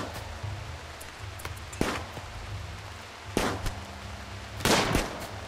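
Gunfire in a RimWorld colony battle (Alpha 13) sounds as a handful of sharp, separate cracks spaced a second or more apart, fairly faint over a low background hum.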